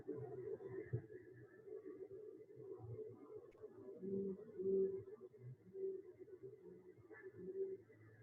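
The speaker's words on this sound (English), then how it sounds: "I'll play one more call of brown fish owl." Brown fish owl calling, a faint series of low, soft hooting notes repeated in a steady rhythm over a quiet, muffled background.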